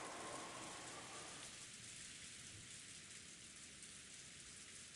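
Steady, soft rainfall with a gentle wind hiss fills a quiet indoor-sounding scene, constant and even throughout with no voices.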